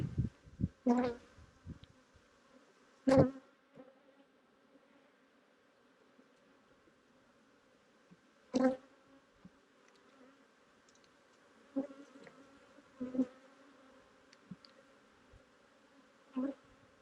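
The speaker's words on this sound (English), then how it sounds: "Let's pull out the frame that has the yellow jacket trying to get on it." Bees and a yellow jacket buzz around a frame lifted from a honeybee hive, the faint hum broken by several short, louder buzzes as insects fly close past, with no talking.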